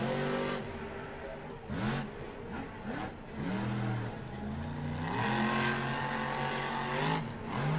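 Monster truck engine revving hard at an Overdrive Monster Trucks event as it goes up on a wheelie, a loud, rising and falling roar with repeated throttle swells over crowd noise.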